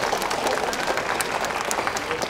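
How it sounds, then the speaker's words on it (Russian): Continuous crowd applause at an evening prize ceremony, crisp individual claps standing out over an even wash of clapping, with faint voices beneath. "Аплодисменты."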